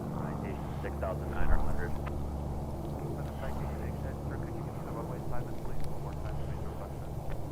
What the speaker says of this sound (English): Once this National Airlines has landed